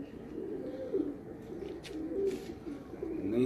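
Pigeons of a single class coo in a steady series of low, rolling calls at moderate volume, repeating through the moment with no voices over them.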